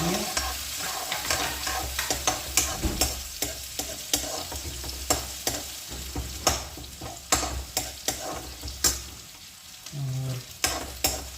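Cumin, chopped onion, garlic and ginger sizzle in a pan for a beans-carrot sabzi, with a steady hiss broken by frequent sharp scraping and stirring clatters, close and alone.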